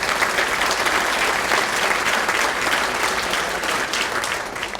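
Sustained, dense audience applause fills a police awards ceremony honoring St. Paul officers, a loud, even wash of many hands clapping close by with no break for nearly five seconds.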